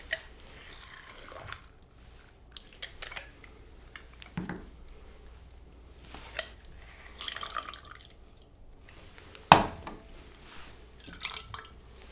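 Lime juice pours and drips into a cocktail shaker in small scattered splashes and trickles, quiet and close, with light taps and clinks in a fairly hushed room.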